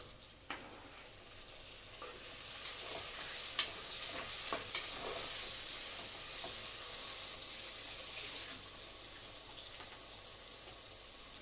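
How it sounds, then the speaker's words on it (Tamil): Chopped tomatoes go into a pan of fried onions for biryani, giving a soft, steady sizzle with a few light scrapes and taps of stirring, fairly quiet and without talk. "வெங்காயம் நல்லா ஃப்ரை ஆயிடுச்சுங்க. இப்போ தக்காளி போட்டுக்கலாம்."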